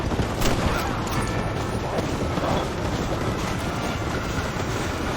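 A train in the Red Dead Redemption video game rumbles along loudly and continuously, a dense clattering roll of wheels on rails that holds steady for the whole stretch.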